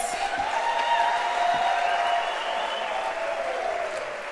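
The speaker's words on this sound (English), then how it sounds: "A louder round of applause." Sustained audience applause fills a university hall during a national dialogue address, dense clapping from a large crowd that holds steady and fades slightly toward the end.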